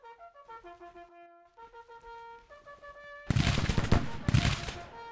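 Musket volleys crack out from massed troops on a Civil War battlefield in a strategy game: two loud, rolling bursts of many overlapping shots, following a stretch of calm sustained music.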